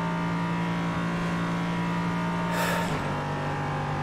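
GT4 race car in the iRacing simulator: a steady, loud engine drone holds a constant pitch, then briefly swells with a rushing burst as another car passes close by. No one speaks.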